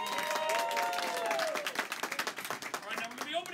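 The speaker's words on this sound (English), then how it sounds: "How about a round of applause for little Giselle here?" A crowd applauds at a town celebration at a ghost-town hoedown. Sustained clapping is heard alongside voices and cheering, and it thins toward the end.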